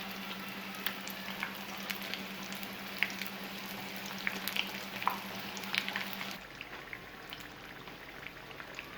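Chicken veg samosas frying in hot oil give a steady, close sizzle with small crackles and pops, accompanied by a low hum that stops partway through.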